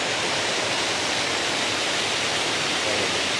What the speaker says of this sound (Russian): Кстати, вроде речка ровная, а раз водопад.